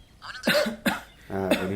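Someone coughs a few times up close, in short harsh bursts with brief pauses between them, a person sick with fever and cough at a hospital.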